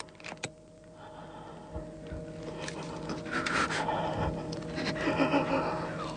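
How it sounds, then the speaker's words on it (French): Anxious panting and snorting breaths from a dog straining to snatch a stick, close and steady across the clip, with rustling and shuffling underneath. "Vous entendez sa respiration angoissée."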